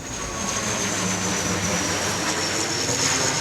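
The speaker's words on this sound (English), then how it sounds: "a group of 9 board a plane to Dallas" An airplane taking a small group from McAllen to Dallas gives a steady, even engine roar that fills the whole moment without pause.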